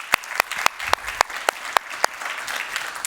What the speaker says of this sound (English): I'll give him a round of applause.